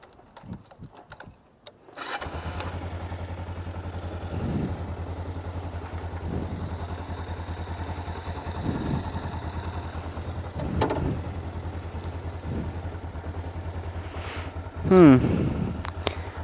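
A Kawasaki Ninja 500R motorcycle engine turns over and catches, then settles into a steady low idle, with a brief louder rev near the end; no speech.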